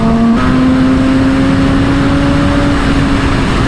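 Kawasaki ZX-6R motorcycle engine droning steadily at high speed, a loud sustained tone holding nearly constant pitch throughout with wind rush underneath.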